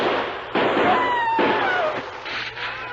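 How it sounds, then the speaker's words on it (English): A gunshot in a 1940s radio drama, a sharp crack followed by a second burst and a whining ricochet-like tone, fairly loud against a noisy background. "Only one man fired, Dan."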